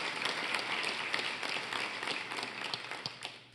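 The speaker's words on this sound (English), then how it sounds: "Let's give him a round of applause." A crowd claps steadily throughout, a dense patter of applause that holds at a fairly even level before tapering slightly at the end.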